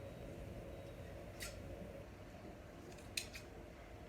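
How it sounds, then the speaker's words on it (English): Scissors trim fabric while a bodice is draped, making a couple of brief, faint snips close by over a quiet background. "when you're trimming your fabric, don't trim it too short"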